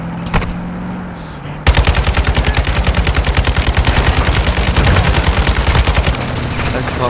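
Rapid sustained automatic gunfire in the Warzone 2.0 DMZ video game, a loud rattling burst of evenly spaced shots lasting several seconds after a quieter lead-in.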